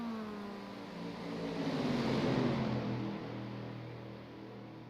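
Race cars, a Miata and a group of three Mustangs, lapping Atlanta Motor Speedway, engines roaring steadily and swelling louder as they pass near, then easing back into a sustained drone.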